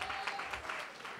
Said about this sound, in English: Round of applause for D-Moss. Round of applause for K-Sam.